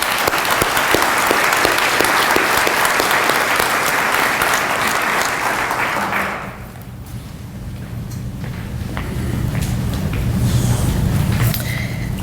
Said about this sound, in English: please join me in giving these businesses a big round of applause